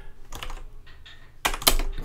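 Quick bursts of clicking keys on a computer keyboard, close by, in a few uneven clusters with a louder flurry near the end.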